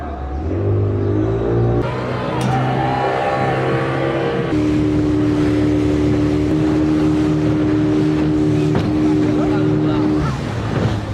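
Speedboat ride on the lake at Dream Holiday Park, a loud close motor drone with shifting engine pitch and water rush running throughout.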